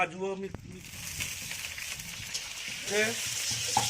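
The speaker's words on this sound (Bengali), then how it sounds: "এই উচ্ছে ভাজা চলছে আটা চলছে" Bitter gourd fries in a pan, giving a soft, steady sizzle. Voices are heard talking over it at the start and again near the end.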